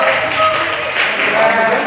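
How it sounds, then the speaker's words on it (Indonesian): An audience at a university human-rights outreach session in Depok applauds a student. The clapping is a dense, loud, close wash of claps that holds steady and fills the whole moment. "tepuk tangan buat Mas Angelo"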